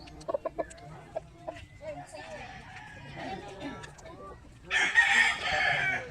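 A red rooster crows loudly near the end, preceded by scattered clucks and soft fowl noises, in a village in Samar, Philippines, with a voice talking in the background.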